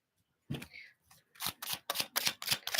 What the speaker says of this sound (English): And then I like to shuffle the other way to see what cards fall out